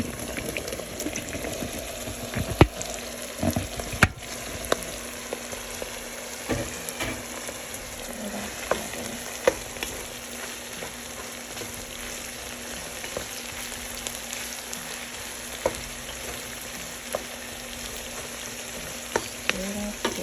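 Mushrooms and pork chops cooking country-style in a pan, a continuous bubbling sizzle with intermittent spoon scrapes and clinks as everything is stirred together over about twenty seconds.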